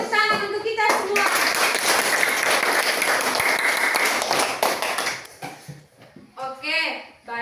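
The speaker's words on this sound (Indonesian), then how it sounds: "tepuk tangan untuk kita semua." Students in a classroom break into lively clapping for about four seconds. A voice speaks before and after the applause, which ends with a few scattered claps.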